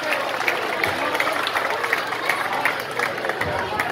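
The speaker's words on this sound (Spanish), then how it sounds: "El aplauso, por favor," An audience claps to welcome the mayor at a Christmas tree lighting and decoration awards ceremony in Puerto Plata, with steady dense applause and crowd murmur throughout.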